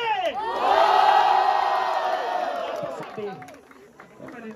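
A crowd at a rap battle cheers and yells loudly for a rapper's rhymes, with the noise swelling quickly and then tapering. A voice speaks over the fading crowd near the end.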